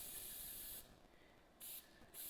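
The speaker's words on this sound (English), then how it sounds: "I'm going to spray all the cases" Aerosol case lube hissing from a can onto rifle brass cases for 6mm ARC reloading, heard as two or three close bursts of spray separated by short pauses.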